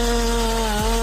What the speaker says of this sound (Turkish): Hiç ağaç keserken kullanılan elektrikli bir testere gördünüz mü?